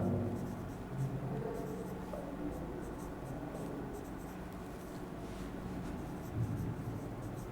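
Chalk or marker writing steadily across a classroom board during a 12th-grade chemistry lesson on carboxylic acids, a continuous scratchy scraping over low room hum with no talk.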